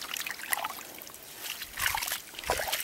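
River water trickles and sloshes in on the bank of the Aranrandeua River in Pará, in the Amazon: faint, close splashing and dribbling with a few brief, louder splashes, without speech.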